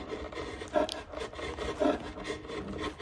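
Rubbing epoxy residue off a wooden surface by hand, a soft, steady scraping rasp with two stronger strokes standing out, close and alone with no talking.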